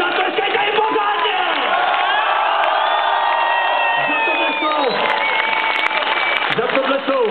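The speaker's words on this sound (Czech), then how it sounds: "Jsou to odbojáři, zatleskejte jim pořádně!" A concert crowd applauds and cheers a Chinese band at an outdoor show in Prague, a loud, dense roar of clapping and whoops with a sustained tone and voices shouting through it.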